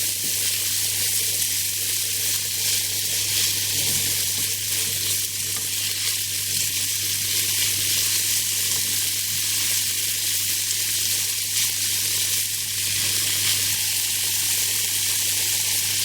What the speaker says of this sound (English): Smell of frying ghee and onions is just amazing.